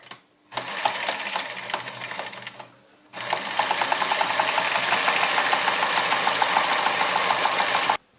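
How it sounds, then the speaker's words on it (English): Sewing machine running a zigzag stitch along the edge of a liner for a bikepacking roll-top frame bag, with a rapid mechanical whirr in two runs: a short burst, a brief pause, then a longer steady stretch. "all I'm going to do is just put a zigzag stitch all the way down the edge"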